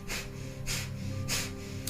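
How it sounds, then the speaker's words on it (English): Rapid, forceful nasal breathing of Kundalini yoga breath of fire, pumped from the navel like a dog panting through the nose; three strong, close bursts of air sound alone with no talk. "breath of fire, it's like panting like a dog, but through the nose"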